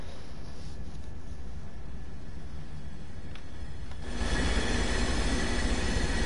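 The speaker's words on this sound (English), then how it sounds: "Smart locomotive though, this one." A locomotive rumbles steadily along the Peninsula Corridor in Train Sim World 2, a dense, loud rolling roar with faint rail clatter that swells noticeably louder partway through.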